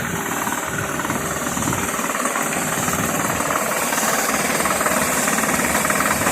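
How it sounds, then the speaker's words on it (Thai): A drilling rig boring a 6-inch groundwater well in Yasothon, Thailand, gives a steady, loud mechanical pounding and engine drone with a dense, continuous knocking rhythm, with no talk throughout. "วันนี้เราเจาะบ่อบาดาลนะครับขนาด 6 นิ้ว"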